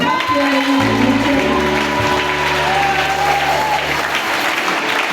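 Church congregation clapping and cheering during a Sunday service, loud sustained applause lasting the whole stretch, with voices and sung or held tones running through the crowd noise.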